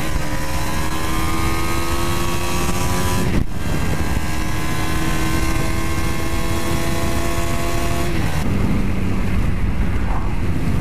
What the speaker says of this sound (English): It's a V4 engine, 400cc, and it's got quite a nice grumbly sound